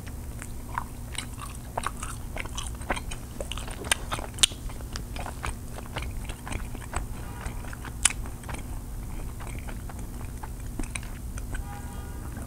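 Close, steady biting and chewing of chocolate-covered marshmallow candy from a Swedish candy bowl, with soft crunches and wet mouth sounds repeating irregularly throughout, no talking.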